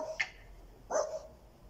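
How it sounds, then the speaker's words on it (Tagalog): Two puppies belonging to a neighbour in Finland bark outdoors: one short yip followed after a pause by a second, louder bark, both moderately close against a quiet background. "Yung kapitbahay namin na may dalawang babies na aso."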